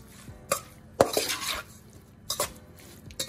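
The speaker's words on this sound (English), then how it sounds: "Stir it up." Flour being stirred into a cooking sauce for lobster mac and cheese, with several distinct clinks and scrapes of a utensil against the pot amid quiet stirring, close and fairly soft, no speech.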